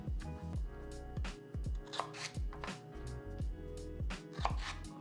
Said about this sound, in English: to dice the celery, what I like to do is to cut them in half first, and then cut them lengthwise